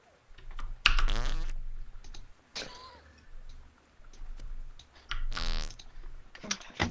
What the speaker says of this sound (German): Sag mal, wer pupst denn hier die ganze Zeit?